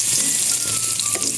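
Garlic sizzling in hot oil in a pan alongside ginger, the start of a Filipino dinuguan with lechon kawali; a steady, close, dense crackle with no talk.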